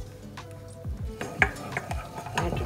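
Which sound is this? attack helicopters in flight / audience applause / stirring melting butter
stirring melting butter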